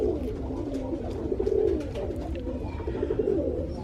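Pigeons coo softly and steadily at close range in two rolling bursts, with a low murmuring background and no talking.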